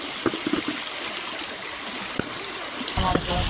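Feet are washed in a flowing stream outdoors, with a constant rush of moving water, a few light splashes and trickles, and a louder burst of splashing near the end.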